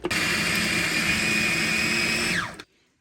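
A food processor blending a falafel batch with minced garlic whirs loudly and steadily, without a break, then winds down and stops abruptly, leaving silence.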